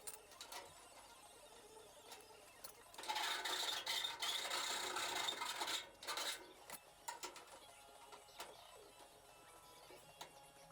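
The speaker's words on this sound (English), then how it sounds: "I'm actually going to have to file it down" A file rasps against sheet metal on a van's A-pillar in a steady burst of scraping strokes for a few seconds, then a few short scrapes follow amid quiet workshop noise.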